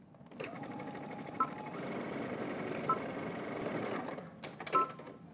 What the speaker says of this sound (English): we're just gonna go back and forth with some zigzag stitches